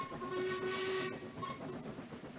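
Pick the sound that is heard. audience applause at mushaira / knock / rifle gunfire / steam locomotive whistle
steam locomotive whistle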